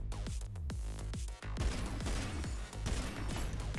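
Rapid automatic gunfire in the shooter game Synthetik, loud dense bursts of repeated shots with brief gaps, continuing throughout.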